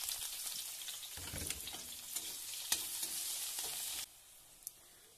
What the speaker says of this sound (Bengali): এখন আমি দিয়ে দেবো কড়াইতে তেল, দিয়ে পেঁয়াজ কুচি,